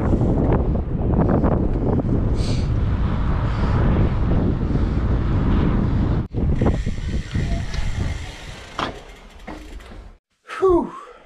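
Steady wind buffeting the microphone, loud and broadband, with a brief drop and a short gust near the end.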